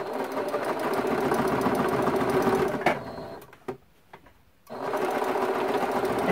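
A sewing machine quilts a T-shirt quilt, running loud and steady up close, pausing briefly with a few knocks and clicks, then starting up again.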